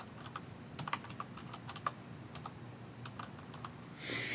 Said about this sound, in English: I can come up here and type in tinkercad.com.